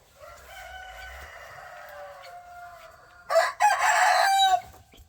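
Chickens in breeding bays make drawn-out crowing calls, with a rooster crowing loudly close by and another crowing more faintly in the background, along with scattered clucking.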